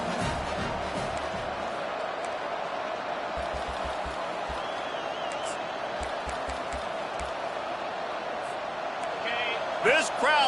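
In EA Sports College Football, a stadium crowd for a Nebraska Cornhuskers versus Iowa Hawkeyes game keeps up a steady, distant roar while a commentator talks over it.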